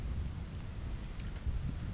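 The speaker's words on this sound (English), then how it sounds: "It's raining." Steady rain pours during a thunderstorm with a low continuous rumble of thunder beneath it, a dense even wash of noise with no voices.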